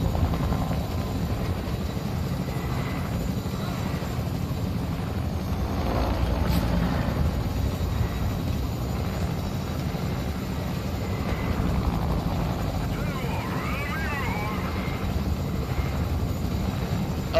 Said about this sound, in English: The chopper here is gone